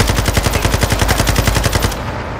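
Machine gun fire in Call of Duty Modern Warfare 2: a loud, close, rapid and evenly paced burst of about twenty shots that stops abruptly, leaving a fading rumble.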